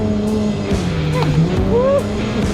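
A car drifts on a sandy track on Dubai's man-made islands, with tire squeals sliding up and down in pitch over a continuous engine roar and occasional voices.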